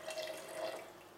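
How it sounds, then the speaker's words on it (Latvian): Distilled water pours into a glass beaker holding sugar during a school chemistry demonstration, a faint, steady trickle lasting about a second with no talk. "vienā no cukura esošām vārglāzēm pieliekam destilētu ūdeni un nātrija chlorīdu"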